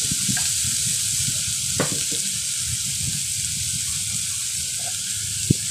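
Onion, garlic and tomato sauté in a pan for Filipino ginisang upo, a steady close sizzle with scattered stirring scrapes and a sharp utensil knock near the end.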